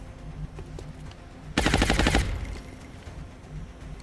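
Automatic gunfire in the XCOM alien-combat game erupts as a loud, dense burst of rapid shots lasting about half a second, set against quieter ambient game sound before and after.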